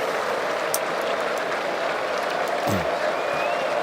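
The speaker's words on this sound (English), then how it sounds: "You don't often hear a crowd roaring for a spinner, do you?" Test match cricket crowd at Trent Bridge, England v New Zealand, applauding a wicket taken by spinner Bashir; steady distant applause and cheering heard under a commentator's voice.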